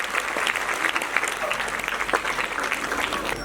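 Applause welcoming a guest onto the stage at a school annual function; dense, steady clapping from a large audience continues throughout without a break.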